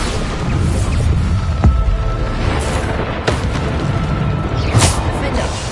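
Bombarda explosion spells go off during Hogwarts Legacy combat, several sharp booming blasts spaced a second or two apart over steady battle noise, with a voice speaking.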